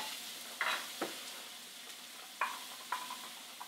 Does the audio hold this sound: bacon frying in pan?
yes